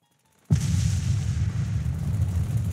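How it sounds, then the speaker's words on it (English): Mortar round explosion effect: a sudden loud deep boom after brief silence, followed by a sustained low rumbling roar that carries on without fading. "A mortar round struck 10 yards to the left and slightly behind their position."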